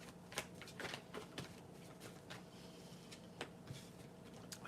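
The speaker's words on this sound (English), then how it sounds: "I have to shuffle the cards a little bit." Soft, quick riffling of tarot cards being shuffled in repeated short bursts, quiet and close, with no voices.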